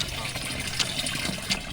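Water from a well pump splashes and trickles steadily into a container at a home in Hyderabad, Pakistan, a continuous close liquid rush with faint voices in the background.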